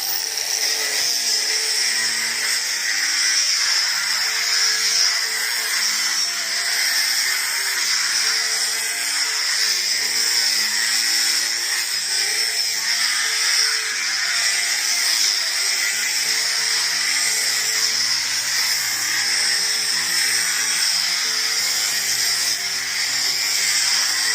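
An angle grinder with a Bosch fiber sanding disc whines continuously at high pitch while sanding wood, loud and close, its tone wavering slightly as pressure changes.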